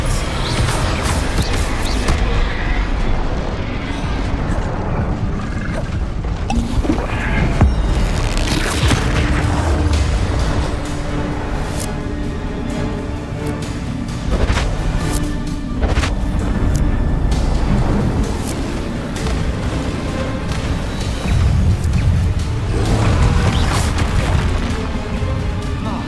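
Bombarda spell explosions in Hogwarts Legacy combat on hard difficulty boom over and over in a loud, dense barrage of game effects that never lets up.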